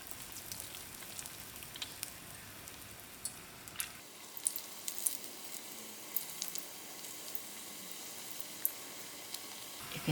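South African chilli bite bhajia frying in oil over moderate heat, a faint, steady bubbling sizzle with scattered small pops and crackles throughout.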